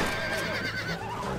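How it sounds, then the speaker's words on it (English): Horses whinny in the Red Dead Redemption western game amid a dense, loud wash of hoofbeats and riding noise, a high wavering neigh rising over the steady rumble. "Work them horses."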